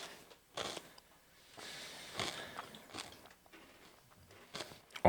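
Crunchy, spicy rolled tortilla chips are bitten and chewed close up, giving a string of quiet, irregular crunches with no talking.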